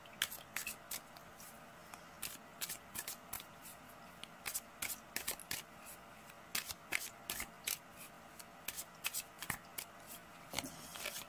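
Tarot cards shuffled for a reading give close, crisp riffling and flicking, repeated in quick irregular bursts over a soft background hiss, with no talking.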